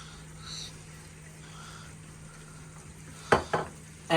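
A spoon stirs fried kaleji (liver) after a teaspoon of garam masala goes in, giving a low steady sizzle and faint stirring, then a few sharp scraping knocks against the pan near the end.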